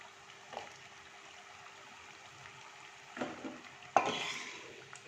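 Fenugreek leaf nimki deep-fry in oil, a soft, steady bubbling sizzle up close, broken by a few louder bursts of spattering and stirring near the end.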